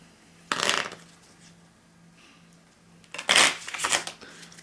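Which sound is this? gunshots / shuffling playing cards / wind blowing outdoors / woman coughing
shuffling playing cards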